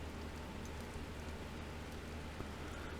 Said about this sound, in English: this rain is a little bit too loud. As much as I love the sound of rain in this game,